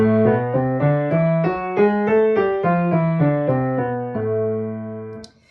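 A single melodic instrument plays an A melodic minor scale note by note, climbing up with raised sixth and seventh, then stepping back down as natural minor, clear and evenly paced.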